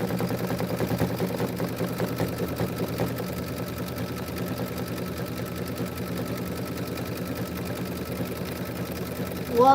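An embroidery machine stitches steadily with a fast, even mechanical whir and rapid needle rhythm, moderately quiet and continuous, with faint background noise.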